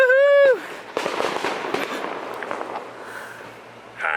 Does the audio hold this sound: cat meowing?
no